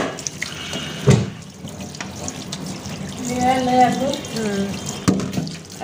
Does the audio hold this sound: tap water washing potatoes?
yes